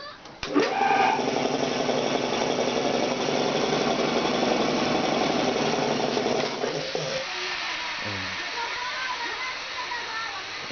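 A homemade workshop air compressor starts with a jolt and runs in a loud, steady drone, then winds down to a quieter, rougher rattle as it shuts off.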